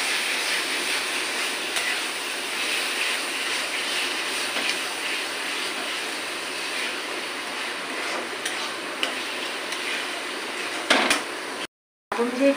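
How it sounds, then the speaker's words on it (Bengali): Chicken masala with ground chilli paste and Kashmiri chilli powder is sautéed in a pan, a continuous close sizzling hiss that runs steadily with a brief cut near the end. "এরকম করে কষিয়ে নেব।"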